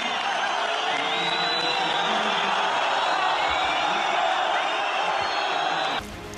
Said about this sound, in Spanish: los pitos y abucheos se dirigieron contra el presidente del gobierno, Pedro Sánchez